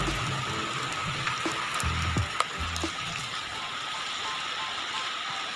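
Steady rain hissing down during a bicycle ride near Lamphun, a continuous dense patter with a few brief knocks and low rumbles underneath, no talking.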